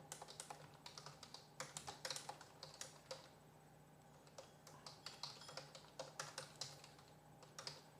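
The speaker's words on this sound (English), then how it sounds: "Just a lot of typing here." Quick, uneven bursts of typing on a computer keyboard while building a FuelPHP e-commerce checkout, key clicks coming in clustered runs with short pauses, close and fairly quiet, no talking.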